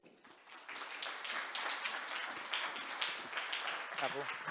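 Dense conference-audience applause following a presentation on AI, blockchain and quantum technologies, steady many-handed clapping that swells quickly and holds, with a voice briefly audible near the end.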